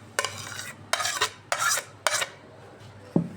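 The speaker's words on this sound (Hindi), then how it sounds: "ये टमाटर मिक्स करने लगी हूँ" Spoon stirring chopped tomato, cucumber and onion into a pumpkin raita in a bowl: five short scraping, squelching strokes in a steady rhythm, close and clear, ending with a light clink.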